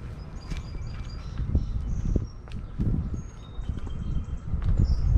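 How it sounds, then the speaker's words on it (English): Several birds chirp and whistle in short high calls above a school garden in Virginia, close to moderately near, over rustling steps and low outdoor rumble while walking. "Are you hearing the sound of the birds as we go by?"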